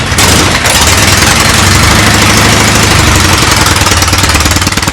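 A 1969 Norton Commando motorcycle engine with kick-start runs loud and close after starting, a rapid, rough, throbbing idle with a steady pulsing beat that holds throughout.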